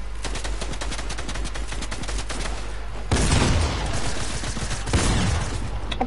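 SMG fire in a multiplayer shooter, heard as rapid sustained automatic bursts, loud and close, with a brief pause before more dense gunfire resumes.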